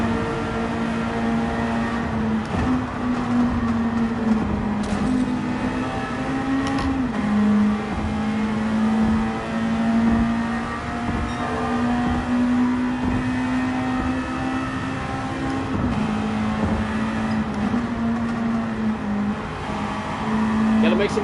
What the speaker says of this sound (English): Just wanted to see what happened if we revved it out.